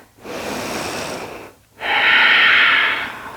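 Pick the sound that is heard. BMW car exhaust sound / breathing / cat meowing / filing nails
breathing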